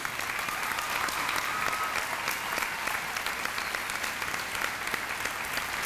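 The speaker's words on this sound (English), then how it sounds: "Another round of applause." An audience at an 8th grade graduation ceremony claps continuously, a steady crowded patter of many hands from the room, without speech.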